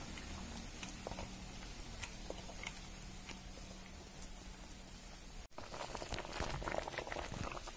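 A pot of seer fish curry bubbles softly at a low simmer, a quiet steady burbling with faint ticking pops, interrupted by a brief knock before continuing a little louder.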